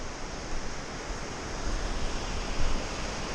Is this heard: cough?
no